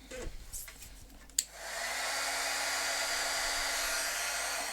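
A heat tool blasts steady air to heat-set ink on a paper craft project before green ink goes on, starting after a brief clatter and then holding a loud, even whoosh with a faint high whine to the end.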